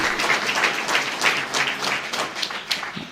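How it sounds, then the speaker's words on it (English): An audience at a National Action Network keynote event applauds Congressman Charles Rangel, with steady clapping filling the hall throughout and some faint voices mixed in. "Give him another round of applause, Congressman Charles Rangel."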